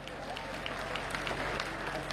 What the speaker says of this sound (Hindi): तालियां कम है हालांकि आपकी